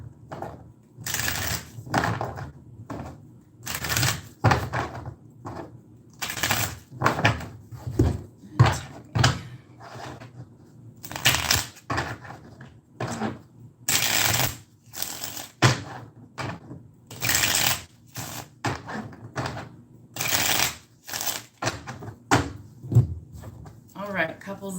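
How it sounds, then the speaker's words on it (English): Tarot cards are shuffled again and again, crisp riffling bursts in a steady repeating rhythm, with a voice talking quietly underneath between the shuffles. "Get all these shuffled real good."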